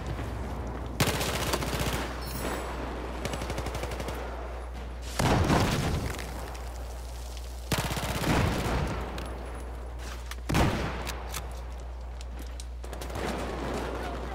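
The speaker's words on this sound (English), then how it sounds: "A lot of explosions." Battlefield 4 team deathmatch combat with the CZ-3A1: rapid bursts of automatic gunfire crackle throughout, punctuated by several heavy booming explosions that flare up at intervals and then fall back to steady shooting.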